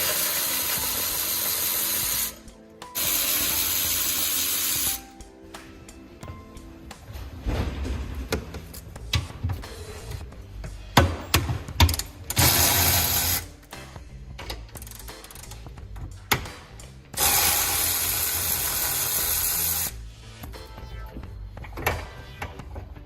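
A ratchet spins off the 14mm seat bolts inside a Toyota Prius, rapid clicking bursts interrupted by pauses, with louder blocks of noise between them, close and fairly loud.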